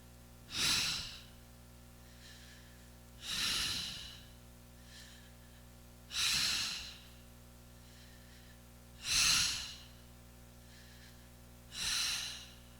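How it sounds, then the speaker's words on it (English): Slow deep breaths during a kriya yoga session, five long airy exhalations spaced about three seconds apart with soft inhales between, close and steady over a faint low hum. "Inhale up, exhale down."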